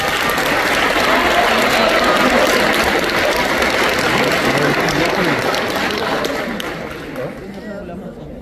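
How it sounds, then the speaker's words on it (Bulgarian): Loud, sustained audience applause with crowd chatter for a folk dance ensemble about to perform a Torlak dance at a Bulgarian folk dance show in Razgrad, fading slightly near the end. "Аплодисменти!"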